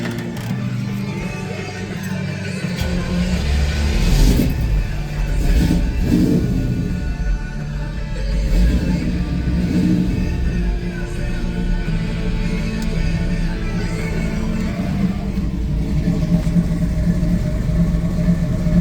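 A 1983 Chevy K10 4x4 short-bed square-body pickup starts and settles into a rough, steady idle, a loud close rumble with some uneven surges that runs throughout without talk.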